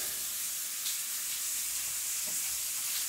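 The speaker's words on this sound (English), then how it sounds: "That bacon frying on the pan in the background?" Bacon frying in a pan gives a steady, soft sizzle and hiss, faint and continuous in the background with no voices over it.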